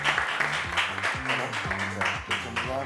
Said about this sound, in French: Venez on l'applaudit.